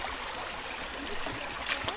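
A shallow river with a clay bottom flows steadily as a continuous broadband wash of water, close and even, with a few brief brighter splashes near the end and no talking.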